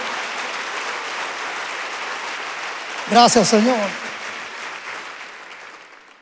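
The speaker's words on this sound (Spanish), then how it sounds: "dale un fuerte, fuerte aplauso al Señor" A church congregation breaks into applause after a man's short spoken phrase. Steady broad clapping fills the room and slowly fades toward the end.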